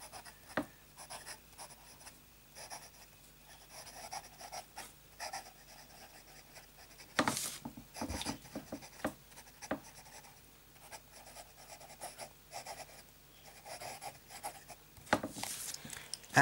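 A medium fountain pen nib writing in light Diamine Soft Mint ink scratches softly across paper in short strokes and pauses, close and quiet, with a few louder scrapes.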